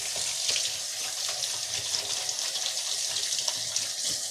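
Water streams steadily from a kitchen sink tap during handwashing while cooking chicken carbonara, a soft continuous hiss with faint splashing, moderately quiet and alone.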